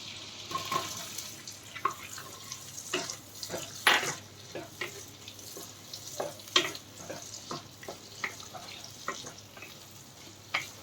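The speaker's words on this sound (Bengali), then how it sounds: "পরে অ্যাড করা হচ্ছে পেঁয়াজ" Onion frying in a pan for penne pasta, a steady sizzling hiss broken by scattered clinks and scrapes of stirring, close and moderately loud with no talking.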